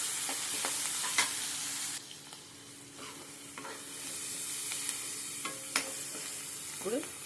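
Food fries in a pan and is left to cook down, giving a constant close sizzle broken by occasional scrapes and clinks of stirring.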